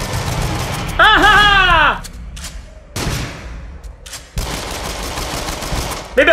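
Gunfire in the VR horror shooter Until Dawn: Rush of Blood, with several loud, close blasts separated by short gaps and a whining, sweeping effect in between.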